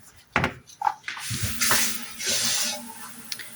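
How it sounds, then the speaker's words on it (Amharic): Water is poured into a mixture in a bowl, a few soft knocks and clinks first, then a close, brief rushing pour that swells and fades within a couple of seconds. "ውሃ አነሰልኝ፣ ውሃ ጨመርኩ።"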